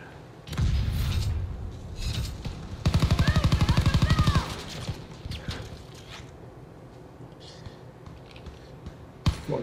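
Light machine gun fire in Call of Duty: WWII rattles in a fast, loud sustained burst mid-clip, with scattered single shots and clatter before and after.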